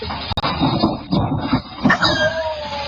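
A cat meows in a few drawn-out calls close by, with a tonal, wavering quality, and a person speaks softly to it.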